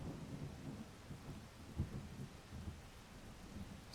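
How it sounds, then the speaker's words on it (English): Rain and thunder in the game Rain World: a steady low wash of rainfall with soft rolling thunder rumbles, one stronger swell midway, heard alone without talk. "I wonder if rain makes it hard for them to hear."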